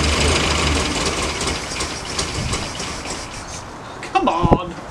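A Morris Minor engine, just refitted and with a sticky choke cable, runs with a rough, uneven idle, close to the microphone, then fires harder with a few sharp bursts near the end.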